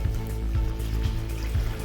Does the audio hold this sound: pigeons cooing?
no